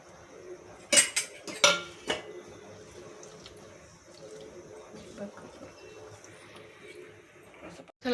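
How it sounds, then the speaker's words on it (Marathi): Spoon stirring matar pulao, a rice and green pea pilaf, in a metal pot with water just added: a burst of sharp metallic clinks and scrapes up close, then quieter, softer scraping against a faint kitchen background. "छान याला मिक्स करून घ्यायचं"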